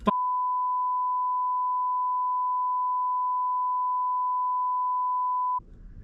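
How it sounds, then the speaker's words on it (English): A single steady electronic beep, a pure tone held loud and unbroken for about five and a half seconds before cutting off abruptly into faint background noise. "that beep is just 1 syllable"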